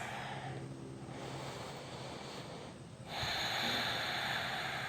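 Slow, deep breaths drawn in and out during a stretching exercise, a soft airy hiss that swells, fades, then returns louder near the end, close and steady with no talking.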